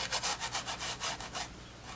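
A filbert brush scrubs acrylic paint onto canvas in rhythmic back-and-forth strokes, about a dozen soft rasping passes, close and fairly quiet with no voices.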